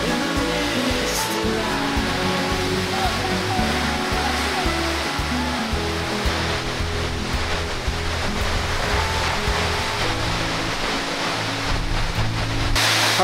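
A loud waterfall roars in a steady, dense rush of water, close and constant throughout with no pauses.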